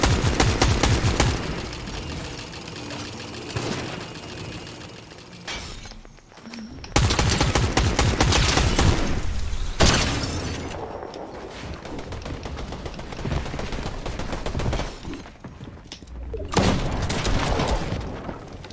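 Rapid bursts of video game gunfire crackle and boom almost without pause, dense automatic volleys broken by a few short gaps, loud and close throughout.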